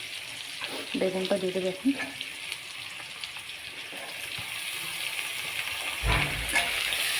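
Eggplant and other vegetables frying in a pan, a steady soft sizzle and hiss running throughout with some stirring, as someone speaks briefly near the start.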